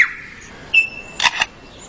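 A forest bird mimics a camera shutter: two sharp, close mechanical clicks in quick succession, preceded by a thin whistled note and set against a quiet background.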